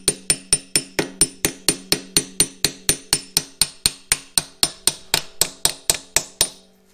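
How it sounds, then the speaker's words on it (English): Steady, evenly spaced hammer taps drive a 5/8 socket into the crankcase of a Corvair 102 hp engine during reassembly, about twenty-five sharp metallic strikes close by, alone, ending abruptly. "Now I can take a, what is this, 5/8 socket, just drive that in gently."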